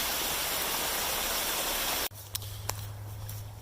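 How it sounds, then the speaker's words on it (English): Roaring waterfall swollen by a night of heavy rain along the Appalachian Trail near Pearisburg, a dense steady rush for about two seconds, then cutting to a quieter outdoor scene with a low hum and a couple of faint clicks. "You get some great waterfalls."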